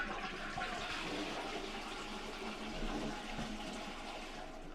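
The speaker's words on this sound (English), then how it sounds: "Does it flush?" A hotel bathroom toilet flushes in a continuous rushing swirl of water that holds strong for several seconds, heard up close with no talking.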